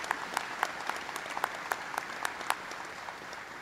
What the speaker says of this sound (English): Let's all show them our support and give them a round of applause.